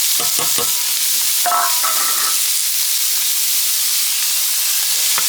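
Carrots tipped into a hot pot for pasta fagioli and stirred, a few sharp scraping knocks up front over a loud, steady hissing sizzle that runs throughout.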